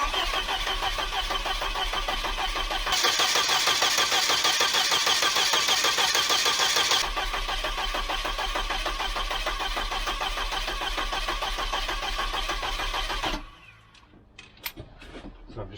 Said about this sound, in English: crank it over just to make sure the engine turns and everything sounds okay